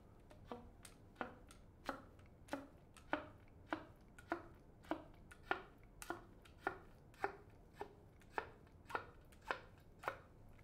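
Oboe slap tongue played on the reed alone, a very quiet series of evenly spaced percussive pops, about sixteen in a steady rhythm, heard close with no talk.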